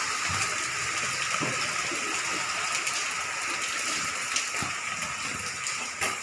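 Rain falls steadily on a village, a dense, unbroken hiss and patter at even loudness for the whole stretch, with no voices.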